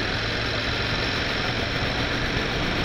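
A Rouser 135 motorcycle engine runs steadily on a ride through the Nasugbu loop toward Tagaytay, a constant mid-pitched drone mixed with road and wind noise, loud and unbroken, with no talking.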